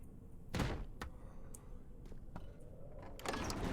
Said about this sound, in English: That wasn't a door I could just bust open